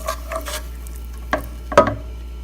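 A blended paste of onion, garlic and ginger fries with cumin seeds in a pan, giving a soft steady sizzle broken by a few sharp clinks of a spoon stirring against the pan.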